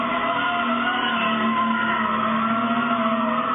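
A hoon's car takes off down back streets with a loud, sustained engine roar and tyre noise that holds at a harsh, even level from start to finish.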